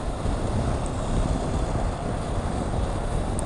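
Riding a Honda CB500X motorcycle, the helmet-mounted mic picks up a constant roar of wind buffeting, dominated by low rumble with steady hiss above, loud and unbroken, no speech.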